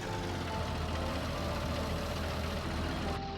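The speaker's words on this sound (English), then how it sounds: "You can go inside the tractor and drive it from inside like you would actually do." A tractor engine idles in a farming video game, a steady dense rumble that stays constant and fairly loud throughout with no voices.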